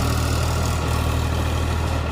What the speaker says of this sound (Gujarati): ચાલો કટર ચાલુ થઈ ગયું